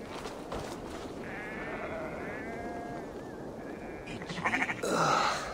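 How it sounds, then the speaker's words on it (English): Sheep bleat in the Assassin's Creed Valhalla video game, a few wavering calls over a constant windy outdoor background, with a louder rustle and clatter near the end. "What has this sheep eaten?"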